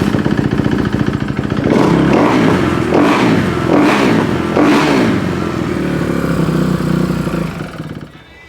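Kawasaki KX250F dirt bike with a running fault: the engine drones loudly and steadily, rising in four short revving surges before the sound cuts off at the end, with no talking.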